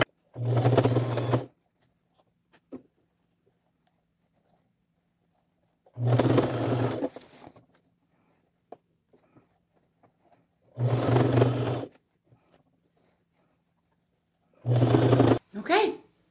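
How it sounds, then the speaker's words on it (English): A sewing machine stitches denim and quilt applique around a skirt in four separate bursts of steady whirring, each lasting a second or two, with quiet gaps between them. "I'm just going to take my time and sew all the way around."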